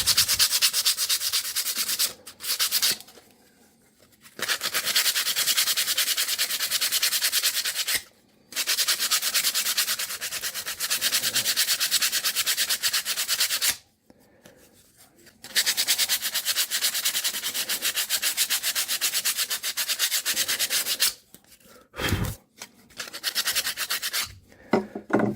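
Close, steady sanding rubs residue glue off a 1991 Takamine TD 32 guitar in long scratchy strokes, with brief pauses in between and no talk.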